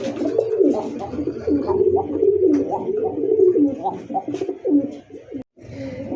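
A silver Lahori pigeon coos close by in repeated, rolling low burbles that run almost continuously, with a few soft bird chirps in the background.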